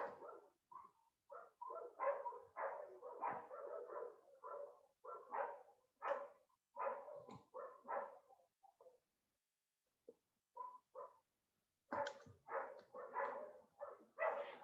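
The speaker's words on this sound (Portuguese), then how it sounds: "vocês estão ouvindo o cachorro latindo" A dog barks repeatedly in quick bursts, fairly faint and somewhat distant, pausing briefly before resuming a steady run of barks.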